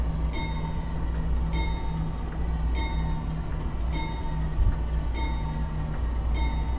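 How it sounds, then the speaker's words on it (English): A CP AC4400 diesel locomotive in Train Simulator 2020 runs with a steady low engine drone and a periodic clicking pattern that repeats about every second. The sound is continuous and moderately loud, with no voices. "I think our locomotive's getting there"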